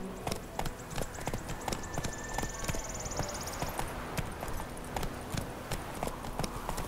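Horse hooves clip-clop steadily in a walking rhythm from Roach, Geralt's horse in The Witcher 3, continuous and fairly close throughout, with faint ambient sounds and a brief higher tone in the background.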